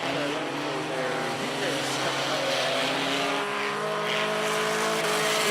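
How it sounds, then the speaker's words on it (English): Bandit race cars roaring through a hot lap session at Mohawk Raceway, a loud continuous engine drone with shifting pitches as several cars pass, under a public-address announcer's voice. "Checker flag out this time by hot lap session for the Bandits."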